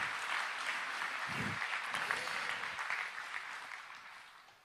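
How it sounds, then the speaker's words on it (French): Applause from the audience at an association's annual general meeting, a fairly soft, steady patter of many hands clapping that continues for several seconds before slowly thinning out. "Vous pouvez les applaudir, merci."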